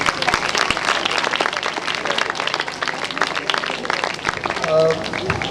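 Congregation at a church gathering in Pakistan claps steadily, a dense, continuous patter of many hands filling the room, with a voice talking briefly through it near the end.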